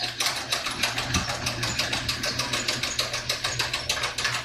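A hand-cranked cavatelli pasta maker rolls dough in a quick, even clicking and whirring rhythm, close and moderately loud, with no talking over it.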